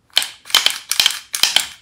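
Crisp mechanical clicks from the trigger of a Bul-Armory SAS II UR Shorty 9mm pistol, heard close in four quick, evenly spaced bursts, each a sharp snap with a short rattle, no voices.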